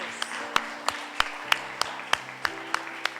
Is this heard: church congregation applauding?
yes